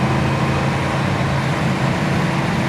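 A 1971 Oldsmobile Cutlass cruises along, its engine and road noise forming a steady, even, fairly loud hum from inside the car with no shifts or voices.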